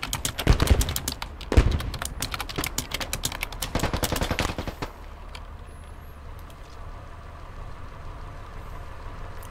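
Long, rapid bursts of MG42 machine gun fire in the Squad video game, loud and close, with a brief pause between bursts, then fading out to a quieter rumbling background.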